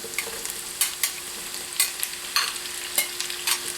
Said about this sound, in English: I'm adding the potatoes now because I want to brown them a little bit